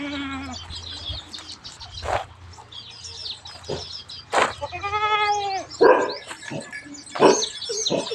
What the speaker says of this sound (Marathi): आता पा सगळे पिल्ले शेळ्यांमध्ये पिण्यासाठी सोडलेले आहेत